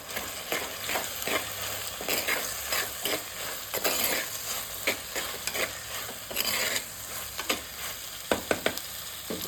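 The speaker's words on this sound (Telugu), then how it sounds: "ఒక స్పూన్ పసుపు ఇంకా ఒక స్పూన్ అల్లం వెల్లుల్లి పేస్ట్ వేసిద్దామండి వేసేసి నీట్గా కలుపుకోండి" A spoon stirs turmeric and ginger-garlic paste into an oily frying pan with repeated scraping strokes over a steady sizzle. Sharp metal clinks come near the end, close-up and without speech.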